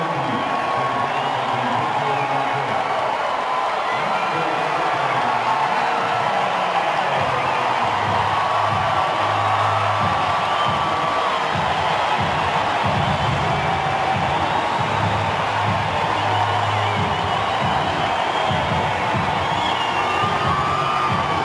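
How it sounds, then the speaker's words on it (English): A baseball stadium crowd of nearly 44,000 roars steadily as a player nicknamed Big Daddy makes a play, with continuous dense cheering and whooping from start to finish and a broadcast voice faintly underneath. "Listen to the crowd."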